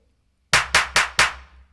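A clap sample from a Maschine drum machine fires four times in an even rhythm after a short silence, each hit crisp, loud and dry with a short decaying tail.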